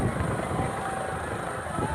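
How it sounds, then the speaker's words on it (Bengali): A helicopter lands at a large outdoor political rally in Amta, its engine and rotors making a steady, heavy rumbling whirr with strong rotor wash, loud and continuous under a person talking. "তো একটা বিশ্রী একটা আওয়াজ হচ্ছে, ঘেরানি হেলিকপ্টারের এতে।"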